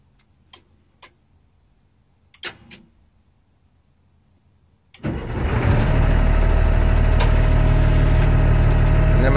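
An LMTV military truck is remote-started by an Avital system: a few faint clicks and ticks in near silence, then the diesel engine catches and settles into a loud, steady idle.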